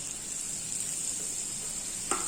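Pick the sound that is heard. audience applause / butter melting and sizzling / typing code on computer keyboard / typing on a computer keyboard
butter melting and sizzling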